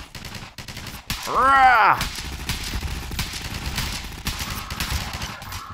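Burst of gunfire from a customizable weapon in Garry's Mod, a loud short volley around a second in, with a voice shouting over it and game noise continuing beneath.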